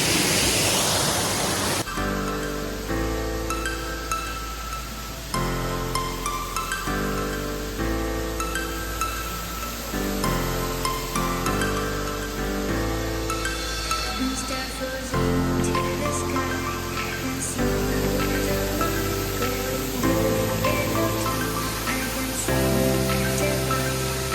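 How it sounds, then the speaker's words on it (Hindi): Heavy night rain in Chiang Rai, Thailand, pours as a dense, steady roar throughout, with music playing over it and no clear talk. "बारिश रुकने का नाम नहीं ले रही है"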